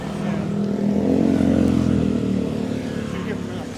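Cars and motorbikes stream through busy Bangkok street traffic, a close engine surge swelling and fading over a few seconds amid the continuous hum of passing vehicles, with someone talking over it.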